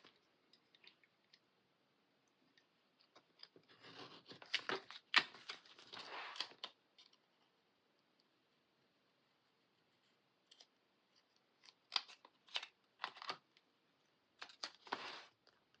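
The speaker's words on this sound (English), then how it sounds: "I'm just going to trim it down to a smaller size." Paper being trimmed down to a smaller size for a Christmas and winter planner spread, faint clusters of quick snips and clicks in two bursts separated by quiet.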